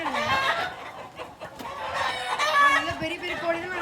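Fighting roosters at a poultry farm in Sulur cluck and call continuously at close range, with a crow rising partway through and someone talking over the flock.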